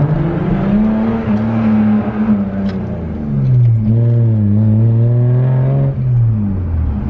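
Car engine heard from inside while driving, a steady loud drone that rises and falls with gear changes and throttle, continuous throughout.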